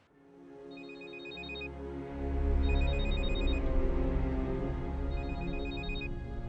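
A telephone rings in repeated bursts of electronic trills over a loud, steady musical score in a Hindi TV drama hospital scene; no talk during the rings.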